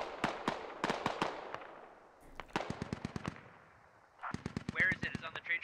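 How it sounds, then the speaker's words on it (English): Rapid bursts of automatic gunfire in the tactical shooter game Squad, several loud volleys of sharp cracks separated by short pauses, with a denser, closer burst near the end. "it looks like we got some shooting going on over here"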